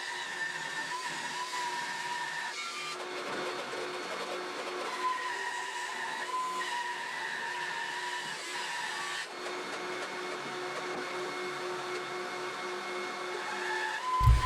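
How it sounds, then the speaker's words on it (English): A bandsaw cuts through a wooden bowl blank for woodturning, giving a steady, loud mechanical whine and drone that runs without a break, with brief dips in pitch and load along the way and no voices. "I'm going to go ahead and use a bandsaw"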